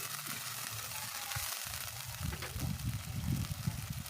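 Vegetables being stirred in a pan with added water, stock powder, oyster sauce and sugar, giving a steady sizzle and bubbling with soft scraping stir movements that grow busier toward the end.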